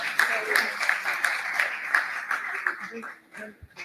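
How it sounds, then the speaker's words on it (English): Applause for volunteers at an international healthcare and social work conference: a crowd clapping steadily, moderately loud, fading toward the end, with people talking over it. "a round of applause for our volunteers"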